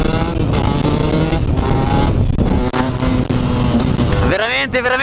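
A Husqvarna TE 125 motorcycle revs hard and close, its engine note rising, dropping briefly at a gear change and then climbing again in a sharp acceleration, with someone talking over it.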